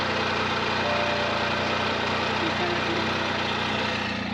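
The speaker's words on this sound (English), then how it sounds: "the engine's running" An adventure motorbike's engine runs steadily on a hot day in Cambodia, giving a loud, dense, continuous drone with no clear breaks or changes in pitch.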